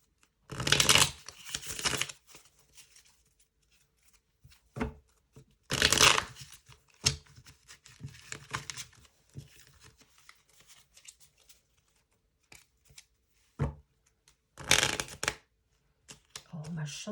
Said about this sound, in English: shuffling skills are so bad today.